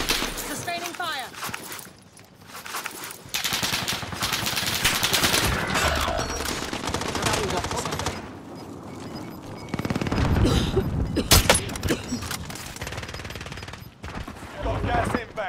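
Call of Duty Warzone firefight in a snowy tundra area, loud repeated gunfire bursts and automatic weapon fire with impacts and movement, mixed with in-game radio voices and players talking throughout.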